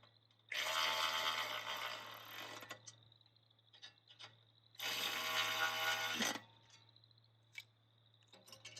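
Two long bursts of rapid ratcheting as bolts are tightened on a Flyway 180 automatic clay pigeon thrower, each lasting about two seconds, with a few lighter clicks between them against a low steady hum.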